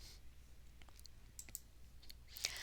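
A computer mouse clicks several times in quick succession while entering data in tax filing software, soft and close, with no voices.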